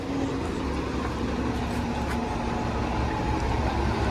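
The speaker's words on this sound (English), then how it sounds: "there's the 65 Parliament bus" Route 65 Parliament city bus passing on a Toronto Cabbagetown street on a Sunday, a steady low engine and road rumble that stays fairly loud and constant throughout, with no voices.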